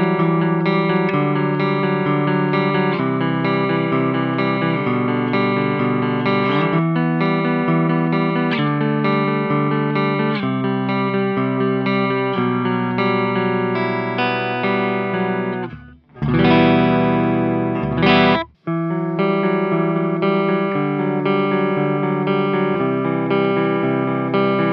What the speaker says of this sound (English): So I'm going to play you some sounds now using the stock pickups